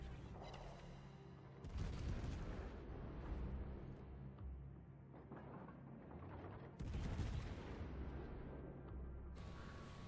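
Naval gunfire in the video game World of Warships, with heavy booming salvos and explosions over a constant low rumble, several loud bursts spread across the stretch.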